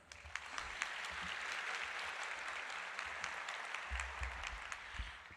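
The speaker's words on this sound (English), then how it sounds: "I think y'all deserve another round of applause" Audience applause at a medical school white coat ceremony in Houston, steady dense clapping from a large crowd heard at a distance in a hall, sustained for several seconds with low rumble beneath.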